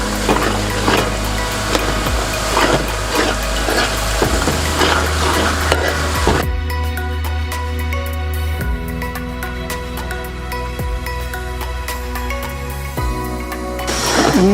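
Ginger and garlic frying in oil for Kerala-style tuna fish pickle, a loud continuous sizzle with scraping stirs throughout, briefly calming midway before crackling resumes.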